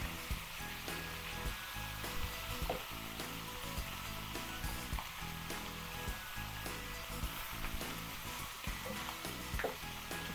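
Beef ribs cooking with sauce in a wok give a constant, hissing sizzle with bubbling and occasional pops, steady and close for about ten seconds without any speech.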